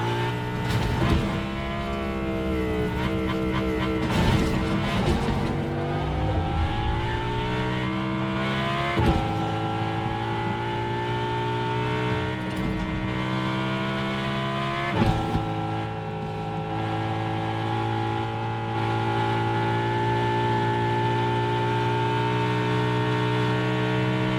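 A car engine in the Fortnite video game drones steadily for the whole stretch, with repeated revs and gear-change drops in pitch, loud and close, and no talk over it.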